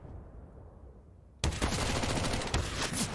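Pistol gunfire in a Counter-Strike match on the Dust2 map: after a quieter stretch, a burst of rapid, loud shots crackles for the final couple of seconds.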